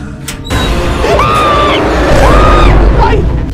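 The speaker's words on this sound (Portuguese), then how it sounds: "Alguém gritou." Distant, wavering scream echoing through the empty corridors of the horror game Inside the Backrooms, two drawn-out rising and falling cries over a loud, steady rumbling background.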